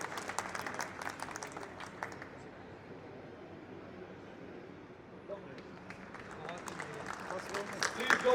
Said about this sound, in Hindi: प्लीज जोरदार तालियों से स्वागत करें प्लीज।